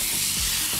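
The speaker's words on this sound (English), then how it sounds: "Ooh, I love that sizzle." Olive oil sizzles in a heated pan, a brief, loud, close, steady hiss with no talking.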